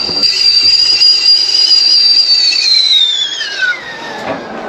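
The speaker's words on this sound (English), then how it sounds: "I can hear the coffee." Coffee brewing on an induction hob gives a loud, high, steady whistling hiss that holds for a few seconds, then slides downward as it fades into a softer bubbling rush.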